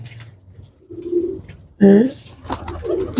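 Pigeons coo in short, soft bursts close by, one louder call standing out midway, with a voice talking among them.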